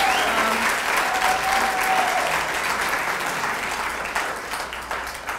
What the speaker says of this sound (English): It's so funny to hear such an applause for this